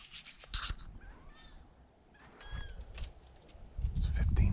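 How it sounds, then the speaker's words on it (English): Wood ducks give thin, rising squealing calls across a Nebraska slough in the dark before sunrise, several brief faint cries among rustling and low rumbling noise, with a louder rough rubbing sound near the end. "It's 15 minutes to shooting time, and there's some wood ducks yelling."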